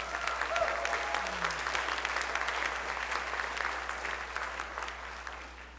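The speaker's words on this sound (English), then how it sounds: "Give them a round of applause." Audience applause at a school spring band concert in Strongsville fills a hall, a dense steady clapping that holds for several seconds and tapers slightly at the end, with no talk over it.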